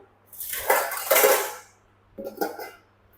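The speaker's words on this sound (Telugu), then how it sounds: "ఇక మూత అయితే పెట్టేస్తున్నా" A lid goes onto a cooking pot, giving two bursts of metallic scraping and clanking, the first longer and the second a short clatter a moment later, close by in an otherwise quiet kitchen.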